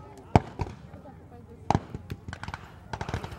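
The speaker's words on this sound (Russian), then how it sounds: "немцы активно обстреливают позиции советских войск" Gunfire and shelling at a reenactment of the 1944 Gumbinnen-Goldap battle: sharp reports crack out irregularly, some single, some in quick clusters, at moderate distance over a low outdoor background, with no voice.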